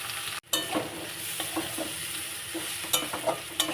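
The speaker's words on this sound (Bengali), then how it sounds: "ভালো করে আর একটু ভেজে নিই" Spices and fish frying for a giant taro curry, a steady close sizzle with repeated scraping stirs of a spatula in the pan.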